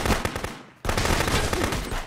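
Gunfire in the Contraband Police video game, a rapid burst of loud close shots, then a brief near-silent gap before another dense volley of repeated shots runs to the end.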